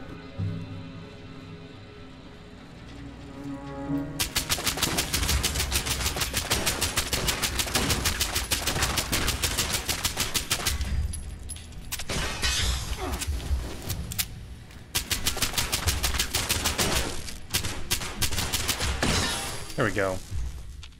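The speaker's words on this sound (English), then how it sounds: "I think I just heard a turret." Automatic turret gunfire from the video game Fallout 76, sustained rapid bursts that run loud and continuous for long stretches with brief pauses, heard over the game's ambient sound and music.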